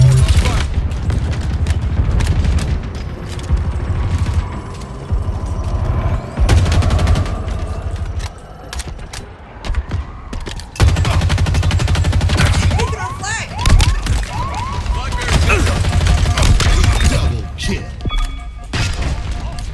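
Rapid bursts of gunfire and heavy thuds from a Halo Infinite multiplayer firefight, loud and near, layered with explosions and game effects while a voice talks over the action.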